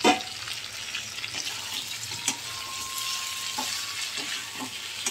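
Chicken curry masala stir-fries in a pan, giving a constant close sizzle with repeated clinks and scrapes of a spoon. A faint thin tone rises partway through.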